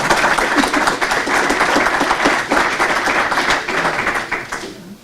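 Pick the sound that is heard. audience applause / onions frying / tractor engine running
audience applause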